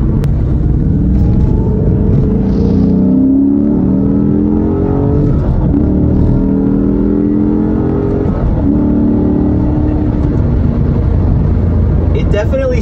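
A Maserati engine rumbles loudly throughout, revs climbing and dropping repeatedly as gears change while driving, with someone talking over the engine noise.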